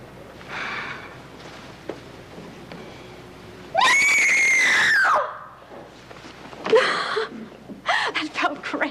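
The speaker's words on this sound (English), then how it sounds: "Then scream." A single loud, sustained scream from a person, held for about a second and a half at close range, with speaking voices before and after.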